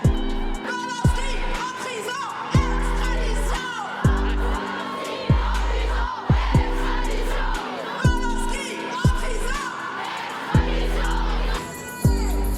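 A large street crowd at a women's rights march chants in repeated rhythmic bursts, loud and close, with voices rising together in regular waves and brief pauses between each shouted phrase.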